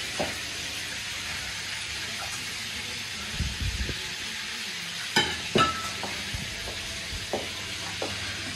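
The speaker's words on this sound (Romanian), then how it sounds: "Rânză prăjită, da." Chicken gizzards frying in a pan, a steady low sizzle with occasional clinks and scrapes of stirring, fairly close and moderate in level, with no talk.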